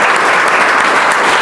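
Loud, dense clapping from an audience at a coaching institute's prize distribution, a close and continuous wash of many hands with no talk over it.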